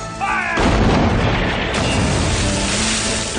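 A large gun fires in a Western drama battle scene: one loud, close, booming blast hits sharply, then a long rolling rumble fades.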